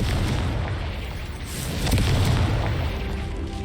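Continuous deep, rumbling blasts from Confringo and Bombarda spells in the video game Hogwarts Legacy, with a heavy low boom that swells slightly partway through, loud and unbroken, with no talking.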